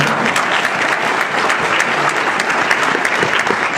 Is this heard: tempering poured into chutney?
no